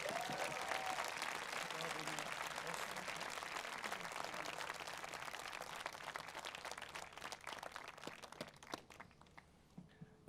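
Graduation ceremony audience gives sustained applause with scattered cheers, a dense wash of clapping that fills a large hall and slowly thins toward the end, with some voices mixed in.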